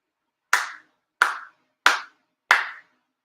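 Four sincere hand claps ring out at a Shinto monthly ceremony in Chula Vista, evenly spaced and sharp, each a crisp isolated slap with a short decay and silence between.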